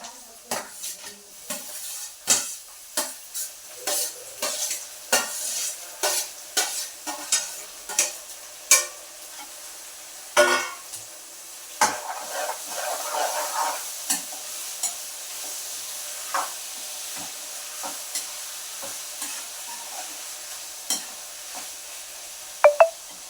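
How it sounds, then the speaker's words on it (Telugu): Tomato and ridge gourd pieces are stir-fried with fried onion in a pan. A spatula repeatedly scrapes and clinks against the metal over a soft, steady sizzle, in irregular bursts with no talking. "ఇప్పుడు నేను ఇక్కడ కట్ చేసి పెట్టుకున్నాను కదా టమాటో ముక్కలు, బీరకాయ ముక్కలు, ఇవి రెండు ఒకేసారి వేసుకుంటున్నానండి"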